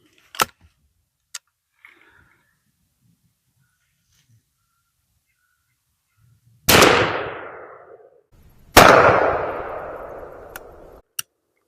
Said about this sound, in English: we'll shoot these Remington Express number 4s and see if the pattern's any good in this New England